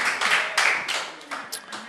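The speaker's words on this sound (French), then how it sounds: "on applaudit monsieur Barry qui va aussi représenter cette université" Applause from a ceremony audience greeting a university graduate as his name is called, a short burst of clapping alongside a speaker's voice.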